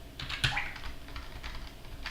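Computer keyboard keys clatter in a quick, close burst while terminal commands are entered, a dense run of clicks with no voice over them.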